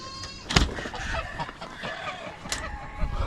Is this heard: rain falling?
no